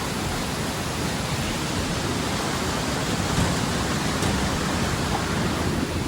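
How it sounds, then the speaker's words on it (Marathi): Steady roar of rushing river water from an overflowing dam, dense and unbroken, loud and close with no voices. "प्रवाह बघा पाण्याचा"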